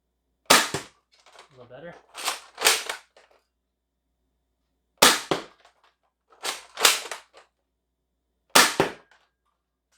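Lanard Huntsman 50 spring blaster with a k26 spring mod firing foam darts: six sharp, loud, close pops in pairs and singles, with brief talking between shots.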